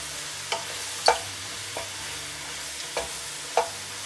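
Mushrooms with lemon juice and garlic stirred in a pan, a handful of sharp, spaced scrapes of a utensil against the pan over a soft, steady hiss, close by.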